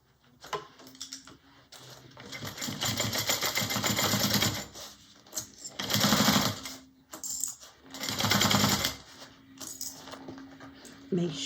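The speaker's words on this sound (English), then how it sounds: "So I'm going to sew that down 3/8 inch." A sewing machine stitches a seam on a small bowler-style bag in several bursts of rapid mechanical chatter, separated by pauses with light handling noise.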